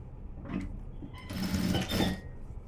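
Sewing machine stitching the fall onto a saree, a steady mechanical whirr that starts softly and swells into a loud, close run of stitching.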